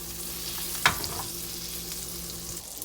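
Salmon frying in a pan, a soft continuous sizzle and crackle with one brief sharp clink near the start, close and fairly quiet.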